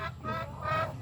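Native chicken clucking noisily while laying eggs at a free-range farm, a loud run of repeated fowl calls rising and falling across the whole second, close and alone without talk.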